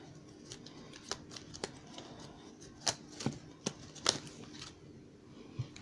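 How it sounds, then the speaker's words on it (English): A deck of tarot cards being shuffled, with scattered sharp riffling snaps and soft slides over a quiet room background, no talking. "Just can't shuffle this card."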